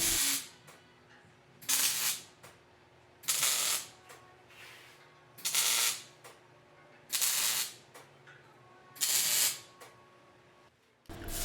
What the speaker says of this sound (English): Once you're happy with the position of the vertical upright, go ahead and weld it in.